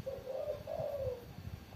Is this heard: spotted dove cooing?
yes